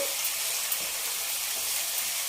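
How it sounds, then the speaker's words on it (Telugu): Tomato-onion paste with green chillies for a mushroom curry gravy frying in a pan, a constant close hissing sizzle with no talk. "ఈ పచ్చివాసన టమాటా ఉల్లిపాయలు పచ్చివాసన పోయినాక వేయించుకున్నాము"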